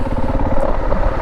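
A motorcycle engine labours in third gear while climbing an off-road hill in Croatia, making a close, loud, continuous low rumble that stays at one strained pitch.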